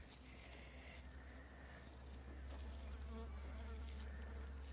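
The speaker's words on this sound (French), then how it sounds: "Ah, les mouches, elles sont rapides." Flies buzz around a chicken during an autopsy, a quiet, continuous insect drone that wavers in pitch as they dart close and away, with no voices.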